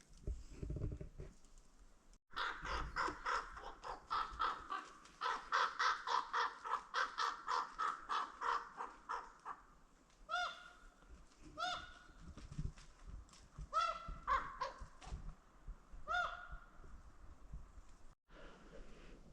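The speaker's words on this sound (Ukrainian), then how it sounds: "Ворона полетіла?" A crow caws repeatedly outdoors in a spring forest, with bursts of harsh calls at moderate distance, followed by pauses and more scattered caws as it flies off.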